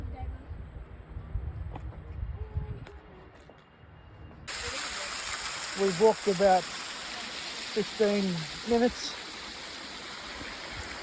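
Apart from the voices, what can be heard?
waterfall in the Blue Mountains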